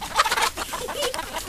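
Several chickens cluck close by in quick, uneven bursts, a busy chatter of short calls with no talking.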